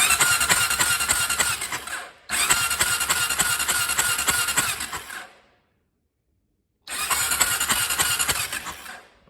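A 2001 Honda TRX400 ATV engine cranks on the starter button in two long bursts of steady mechanical whirring, close and loud, separated by a brief silence.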